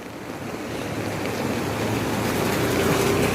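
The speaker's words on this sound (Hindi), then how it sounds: "यहाँ से हम देख सकते हैं कि किस तरह से जलप्रपात अपने रौद्र रूप में आज यहाँ पर" A waterfall in Bhagsu near Dharamshala, India, swollen after a cloudburst flood, roars in a thick, unbroken rush that builds slightly louder, with no voices heard.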